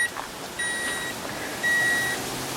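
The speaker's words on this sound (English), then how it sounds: "Then to close it, push the button. Let's do it now. It beeps," A Jeep's power tailgate gives two electronic warning beeps as it starts closing, the second longer and slightly louder, over a faint background hum.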